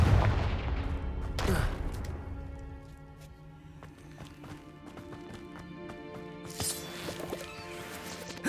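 Confringo fire spell blasts in Hogwarts Legacy, two sharp bursts several seconds apart with a crackling tail, among clattering game sounds and a steady tonal hum.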